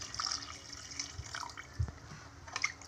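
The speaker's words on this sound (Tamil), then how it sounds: "இப்போ ஒரு படி தண்ணி ஊற்றிக்கலாம்." A cup of water is poured into a pot of beef biryani, giving quiet, trickling splashes and drips that come close and soft with no voices.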